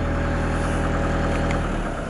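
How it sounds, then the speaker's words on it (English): A Toyota Land Cruiser Invincible with the D-4D diesel engine idles at a raised idle speed, giving a steady, close, continuous low hum with an even rumble and no talk. "a button that raises the idle speed of the engine"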